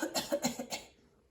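Person coughing in a quick series of about four short dry bursts, close and moderately loud, then trailing into quiet.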